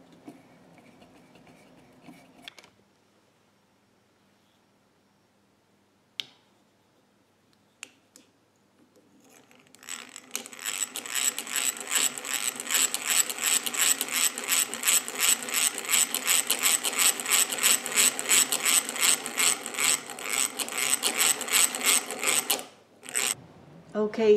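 A hand-turned handle on a wooden violin display mechanism, its rubbing parts freshly waxed, gives a few isolated clicks after a quiet start, then a steady, rapid ratcheting grind close by for about thirteen seconds before stopping.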